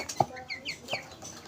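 Chickens cluck softly nearby in short bursts, with a faint clink of dishes in the background.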